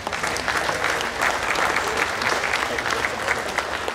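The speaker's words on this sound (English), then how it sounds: "let's give this group of cows a big round of applause." An audience at the Ontario Summer Holstein Show gives a dense, steady round of clapping for a group of dairy cows in the ring, filling the hall throughout.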